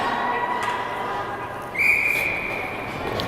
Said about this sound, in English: referee whistling for a center ice.